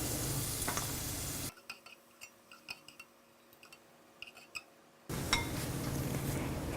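Roasted cashews and raisins are scooped from a pan in a quiet stretch of soft scrapes and light clinks of a spoon against metal, framed by louder sizzling before and after.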